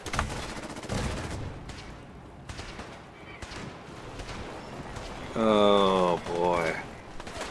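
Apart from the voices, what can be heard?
ship cannons firing in the video game Fallout 4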